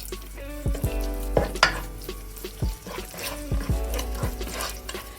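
Hot water poured into a pan of sizzling masala for chicken vindaloo: a steady frying hiss with bursts of crackle and a few scraping stirs, close and fairly loud, no voices.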